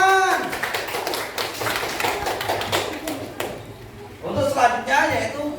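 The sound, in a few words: people clapping hands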